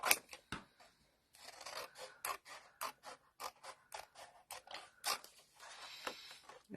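Cardstock with stamped images is cut down to size with scissors or a trimmer, giving a run of close, crisp snips and rasping slices in uneven bursts, quiet and alone without talk.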